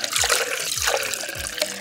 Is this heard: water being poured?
yes